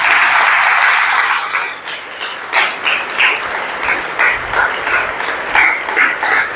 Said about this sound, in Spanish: Vamos a darle un fuerte aplauso a Jesucristo.